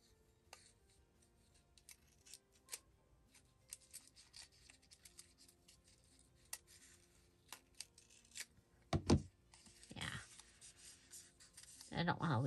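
Scissors trim paper scraps for a craft embellishment, with quiet snipping and rustling building to a few sharper cuts near the end, up close and faint.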